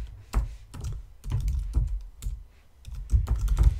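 Bursts of computer keyboard typing while code is written in an iOS Swift tutorial, quick clustered keystrokes separated by short pauses, close and clear with no voice over them.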